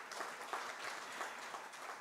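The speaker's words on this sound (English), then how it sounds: "Let's give another round of applause" Round of applause from an audience at a regional health assembly, a dense steady patter of many hands clapping, soft and somewhat distant.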